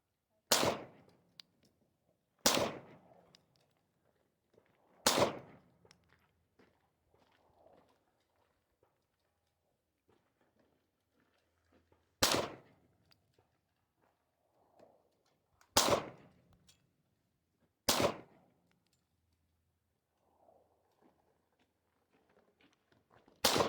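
A full-size pistol fires during a practical shooting stage run. Six sharp, loud gunshots come singly at irregular intervals, separated by quiet stretches with faint movement and no talk.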